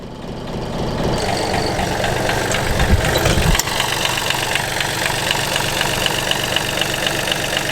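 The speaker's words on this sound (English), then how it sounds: "Little Komatsu Yanmar diesel in there." The small Yanmar diesel engine of a Komatsu PC27 mini excavator idles steadily with a rough, knocking rumble that runs unbroken from start to finish, close and fairly loud.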